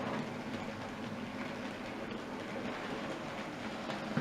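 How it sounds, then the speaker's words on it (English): Model railway goods train of diesel-hauled wagons rolling along the track of a simple layout, a steady rumbling whir with faint rhythmic clicks, moderately quiet and continuous. "I'm just going to shunt these back into the goods yard"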